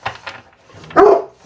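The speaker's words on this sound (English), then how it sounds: "I swear that dog barks at everything." A dog gives a couple of close, loud barks, a short yip first and then a stronger bark after a pause.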